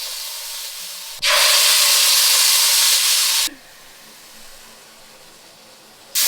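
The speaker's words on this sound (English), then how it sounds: "So to a hot pan with a bit of oil, we're going to sear the meat on all the sides." Sirloin beef for Beef Wellington sears in a hot, oiled pan in a tiny Paris kitchen: a loud burst of hissing sizzle that cuts off abruptly, then a quieter steady sizzle before another loud burst at the end.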